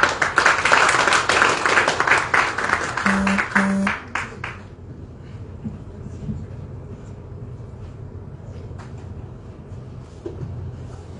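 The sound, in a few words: audience applause welcoming the Grand Théâtre director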